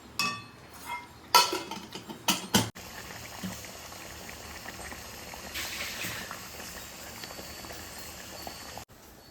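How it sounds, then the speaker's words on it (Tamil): Masala gravy bubbles at a steady boil in a pan before paneer goes in, a soft continuous simmering burble, preceded by a few sharp clinks of a utensil against the pan. "இப்போ நல்லா கொதிச்சிடுச்சு"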